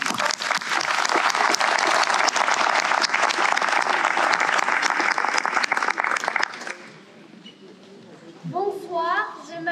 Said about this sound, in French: Vous pouvez les applaudir maintenant.